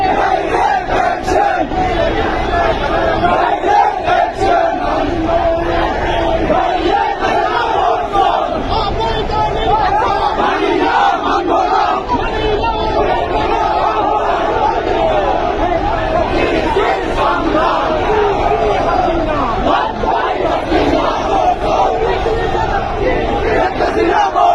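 A large crowd of BNP supporters chants loudly and continuously at a black-flag political procession in Chakaria, Bangladesh, with massed voices dense and steady throughout.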